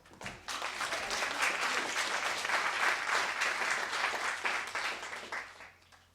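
An audience at a live university research-talk final applauding a speaker, a dense crowd of clapping hands swelling quickly, holding steady for several seconds, then thinning out at the end.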